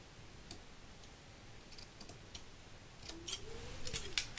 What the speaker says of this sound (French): Il m'énerve ce ciseau, il est trop... il y a de la colle dessus.